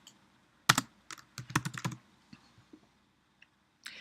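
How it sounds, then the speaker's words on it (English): Typing a search phrase on a computer keyboard: a quick burst of crisp key clicks after a short pause, then a few scattered taps and a final cluster, close and clear with no talking. "Actually, I think what I'm going to type in there is I need social media help."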